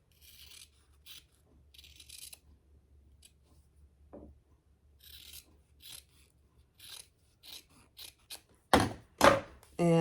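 Scissors trimming the fabric corners of a clutch pattern piece, a series of short crisp snips and rasping cuts, quiet and close, growing louder and quicker toward the end.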